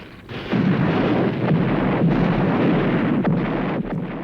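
Heavy artillery shelling of Finnish positions near the village of Suma in wartime, heard as a sustained, dense, booming rumble with repeated low thuds, loud and continuous over the whole stretch with no talk.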